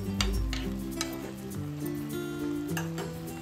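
A spoon stirs poha cooking in milk with cardamom powder, making soft scraping and clinking over a faint simmer while light music plays underneath.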